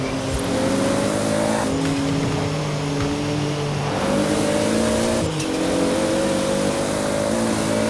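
Car engine accelerating in the racing game Forza Horizon 4, a loud continuous engine drone with rising and shifting harmonic tones as it revs through gears, steady and close throughout.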